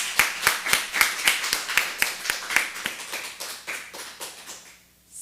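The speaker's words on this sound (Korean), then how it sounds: "우리 하나님께 영광의 박수 좀 해주세요." A church congregation at a Korean Full Gospel Sunday service claps in unison to glorify God, about twenty sharp, evenly spaced claps in a steady beat that fade out, with a faint murmur near the end.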